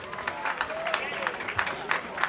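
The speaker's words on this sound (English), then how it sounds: "please give a round of applause to all our lovely sponsors" An audience at a kiki ballroom scene awards event applauds sponsors, a fairly faint, patchy round of clapping with scattered individual claps standing out against a murmuring crowd.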